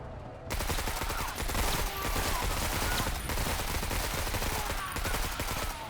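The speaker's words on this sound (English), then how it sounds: "let's go for the salvo" A salvo of gunfire rattles out in the sci-fi turn-based tactics game Menace: dense, overlapping shots and bursts roll on steadily for several seconds at fairly low volume.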